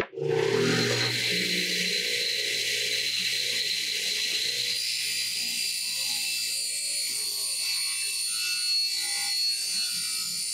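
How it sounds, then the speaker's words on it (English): An under-powered table saw with its blade lowered rips a thin strip off half-inch plywood, a loud, steady high whine and grinding hum that starts abruptly and holds for about ten seconds, close and alone. "Now we're going to do a ripping cut on this plywood, and this is 1/2 inch, so I got to lower the blade."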